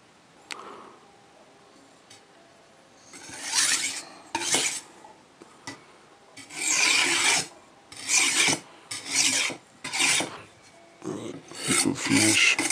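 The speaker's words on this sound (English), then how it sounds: "if it's a good knife, it's easy to sharpen." A knife is drawn across a whetstone in repeated rasping strokes, slow at first and then in a steady back-and-forth rhythm, close and clear with no voices.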